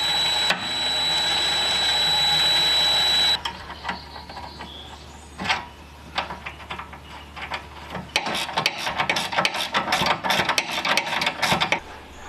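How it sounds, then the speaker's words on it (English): A ratchet tightens a sway bar end link on a Jeep Cherokee KL during a lift install. A steady mechanical whine comes first, then quick, uneven ratcheting clicks in bursts, close and moderately loud, with no talk. "then we're going to tighten it up with a ratchet"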